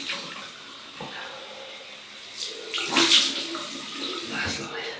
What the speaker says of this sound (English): Cold water rinse now.